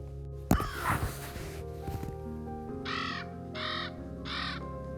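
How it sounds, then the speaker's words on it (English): A raven gives a series of three hoarse, croaking calls at an even spacing, following a sharp rustle and a low background hum in a backyard setting. "That's a raven call."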